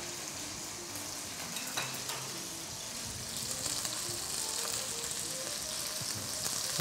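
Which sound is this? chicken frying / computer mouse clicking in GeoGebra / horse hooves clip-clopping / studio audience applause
chicken frying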